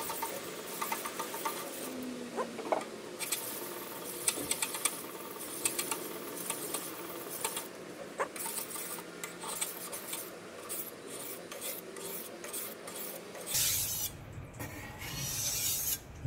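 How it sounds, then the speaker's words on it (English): Steady rasping of a knife blade being worked to remove the burr and belt scratches after sharpening, close and continuous with irregular scraping strokes and a brief louder burst near the end. "I'm just cleaning up the burr that's there and getting rid of some of those scratches from the belt."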